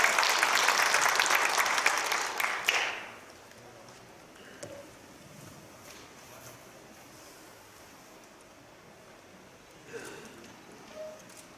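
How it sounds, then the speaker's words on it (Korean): Applause at a joint thanksgiving worship service for two national church elders' associations: a loud burst of clapping for about three seconds, then it cuts off sharply to quiet room tone with a few faint scattered sounds. "우리 모두 박수로 축하합시다"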